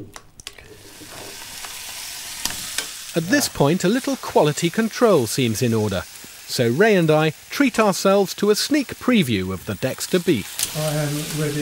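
Dexter beef seasoned with salt, black pepper and a dash of balsamic vinegar sizzles and crackles in a hot pan, a steady frying hiss running beneath close conversation between two men throughout.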